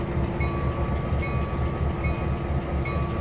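A diesel train pulls away in Trainz 2022, video game, its engine drone rumbling steadily with rhythmic wheel clatter and periodic clicks, loud and continuous with no talk.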